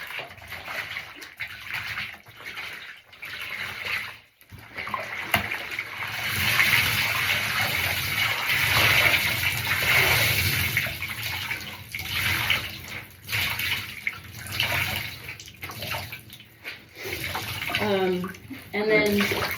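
Hand-washed clothes being rinsed and sloshed in a basin of water, a continuous close splashing and swirling with a quieter dip near the start.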